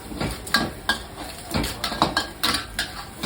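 A utensil stirs squid in yellow curry in a frying pan. It scrapes and clinks against the metal in a quick, irregular rhythm, close and clear over a faint sizzle, with no voices.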